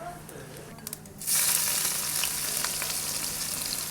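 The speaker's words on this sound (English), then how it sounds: "And they should be crackling. Sizzling and crackling already." Spices, including nigella seeds, drop into hot oil and burst into a loud, steady sizzle with scattered crackles, after a quieter moment of light clicks.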